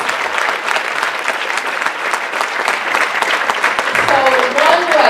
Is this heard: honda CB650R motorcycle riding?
no